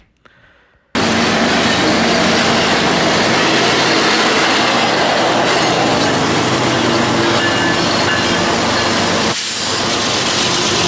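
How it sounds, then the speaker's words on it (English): A freight train rolls steadily along the rails, a loud, continuous rumble and rattle of cars that starts abruptly after a quiet moment and holds steady at close range. "So there's this train that's finally moving."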